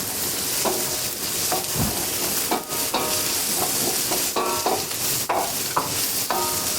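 Vegetables, carrots first, frying and being stirred in flavoured oil in a cooking class kitchen, with a steady sizzle broken by repeated scraping stirs and clinks, close and moderately loud, no voices.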